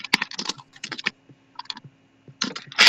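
Fingers tap on a computer keyboard in irregular bursts of quick, crisp clicks with short pauses between runs, close and clear, with no speech.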